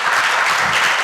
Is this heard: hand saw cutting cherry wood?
no